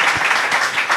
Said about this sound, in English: Big round of applause to Mathias, Bruce, and Nicolo today.